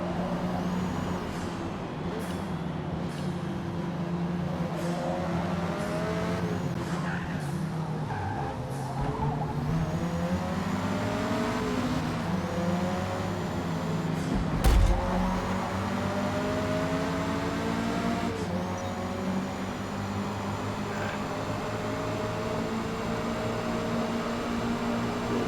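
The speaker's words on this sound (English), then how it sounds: "You're going to hear a little bit of tire scrub." A Mazda 323 lapping Eaglerock in Forza Motorsport, engine drone rising and falling through gear changes with light tire scrub and squeal in corners, continuous and fairly loud with no talk.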